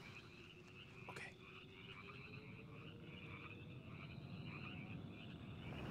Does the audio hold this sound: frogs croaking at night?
yes